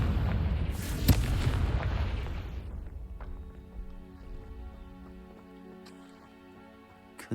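A fiery spell blast in a fantasy wizarding video game erupts as a loud, deep boom with a sharp crack, then decays into a lingering rumble and crackling debris over a quiet, tonal ambient backdrop.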